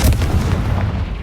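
A Confringo fire spell blast in Hogwarts Legacy, a loud, heavy explosive boom with deep rumbling low end sustained through about a second, close and forceful.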